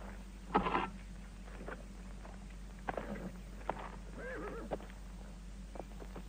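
A horse in an early-morning scene of a 1981 Western film snorts and whinnies among light, scattered hoof clops, fairly faint and distant over a steady low background hum.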